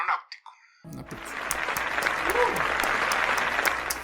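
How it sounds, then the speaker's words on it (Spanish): A live audience breaks into applause after a brief spoken introduction, the clapping swelling quickly into a dense, sustained roar that stays strong to the end, with faint voices under it. "Un aplauso."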